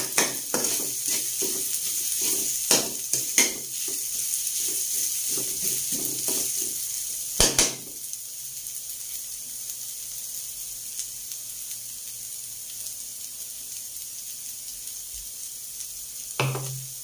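Tuna innards sautéing in a hot pan, a steady sizzle with a few stirring scrapes and clinks early on, then a softer continuous frying hiss.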